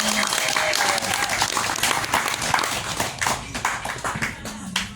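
Wedding guests clapping at a ceremony, a loud round of close, crisp hand claps with distinct individual slaps, easing slightly toward the end as a voice briefly sounds.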